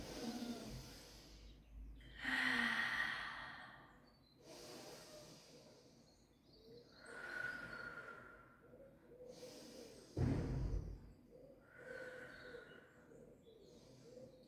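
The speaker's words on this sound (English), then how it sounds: "take a breath in" Deep breaths during a Pilates stretch, slow audible inhales and exhales repeating several times close to the microphone, with a sharper breathy burst midway and no talk.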